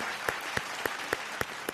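An audience applauds to welcome guests onstage at an event: a dense, continuous wash of crowd clapping with sharp, evenly spaced louder claps punching through about four times a second, steady and moderately loud, with no one speaking.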